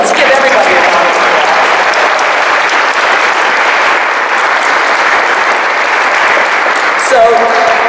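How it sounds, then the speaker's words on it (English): Loud, sustained applause from an audience at a human trafficking awareness event, a thick continuous roar of clapping with a few voices rising near the end. "So let's give everybody a round of applause."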